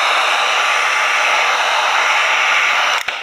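A heat gun blows a loud, steady, hissing stream of hot air over vinyl wrap on a Traxxas TRX4 body, then clicks off abruptly at the end.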